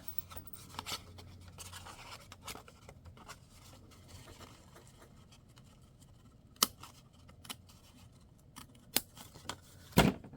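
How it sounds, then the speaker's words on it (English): Metal snips cut through card stock for a floating hexagon card, with scattered close crisp snips and clicks over quiet handling noise, the sharpest cuts coming near the end. "Didn't cut real well, so I'm going to get my snips and finish the job."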